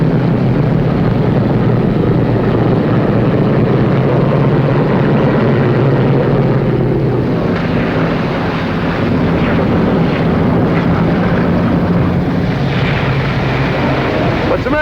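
A propeller aircraft taxis along a runway toward a parking area, its engines giving a loud, steady drone with rumbling low end that holds throughout, the texture shifting slightly partway through.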